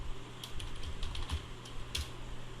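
Keys clatter on a computer keyboard during data entry in a Microsoft Excel spreadsheet, a steady run of light, close clicks with a few sharper strokes standing out.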